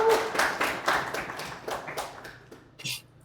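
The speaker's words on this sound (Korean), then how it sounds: "박수 소리가 엄청나네요" Audience applause at an electric-car-building seminar talk: a burst of many hands clapping, loudest at the start and thinning out over about three seconds, with a last few scattered claps.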